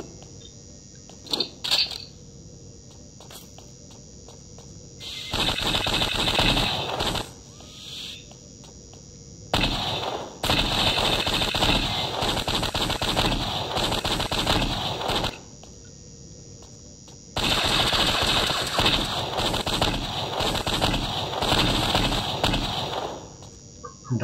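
Rapid bursts of weapon gunfire from a first-person shooter built in FPS Creator, three sustained loud volleys of a few seconds each separated by quieter gaps, with no talk.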